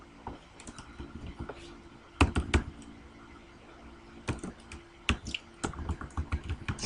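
Quiet computer keyboard typing in scattered bursts of clicks and keystrokes, with gaps between runs, fairly close and soft, no one talking.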